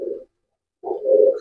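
Pigeons coo in a rooftop loft, two short soft low coos separated by a brief pause, close and clear with no other sound.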